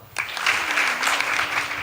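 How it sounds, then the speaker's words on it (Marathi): Applause from a gathered crowd at a Marathi devotional gathering at a saint's temple shrine, a dense steady wash of many hands clapping that swells in after a brief opening and holds loudly throughout. "टाळी वाजवा"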